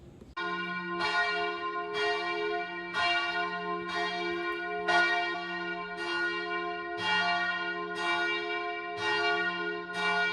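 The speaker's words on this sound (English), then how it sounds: "get used to the sound of these bells because they'll wake you up promptly at 7:30 a.m." Church bells in Kotor Old Town, Montenegro, ring loudly and repeatedly in a steady, overlapping peal, their tones sustaining and blending with no voices present.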